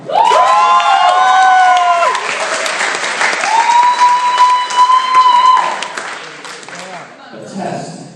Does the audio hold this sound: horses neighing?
no